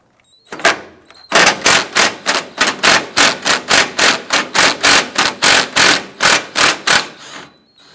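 A ratchet working a 10mm socket to loosen a bolt on a 2008-2013 Nissan Rogue clicks in a fast, even train of sharp, close, loud strokes, with a brief burst first and a short pause near the end.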